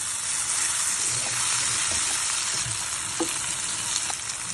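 Turmeric, chili and cumin powder with spice paste sizzling in hot oil in a pan, a steady loud fry with occasional scraping stirs.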